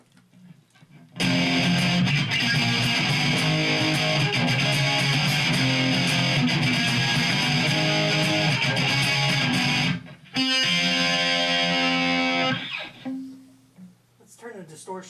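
Electric guitar riff played through a distortion pedal, loud and sustained with dense, saturated tone, then a brief break and a second burst of chords that fades out.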